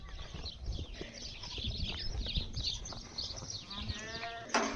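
Sheep bleating on a farm as they are turned out from their lot to pasture, several overlapping calls near and farther off, over rustling and shuffling movement.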